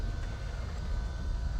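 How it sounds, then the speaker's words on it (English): A train rumbles steadily in the MechWarrior 3 video game, a dense low-frequency rolling drone with no breaks, heard on its own at moderate loudness. "Right, now just the train."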